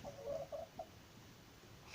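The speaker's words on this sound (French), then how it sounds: "Voilà, c'est une belle poule" A hen gives a few soft, quick clucks close by, faint against a quiet background hum, with no one speaking.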